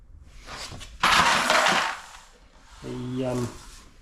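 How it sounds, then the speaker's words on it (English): A pile of small metal rivet nuts gets knocked over in a car workshop and scatters in a sudden clattering burst that fades over about a second, with someone speaking briefly afterward. "just knocked all the riv nuts over"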